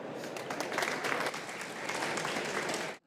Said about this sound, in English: give them a round of applause to welcome them